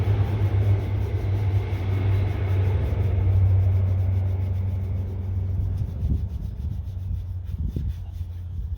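Farecla G3 Pro scratch remover is rubbed onto car paint with up-and-down and left-and-right strokes at medium pressure. The rubbing is a close, continuous, textured friction sound over a low, steady hum.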